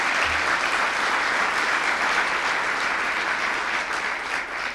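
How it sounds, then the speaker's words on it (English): An audience at the Rainier Arts Center in Seattle, during the mayor's State of the City address, claps in a dense, steady round of applause that holds throughout and eases slightly at the end. "Let's give them a round of applause."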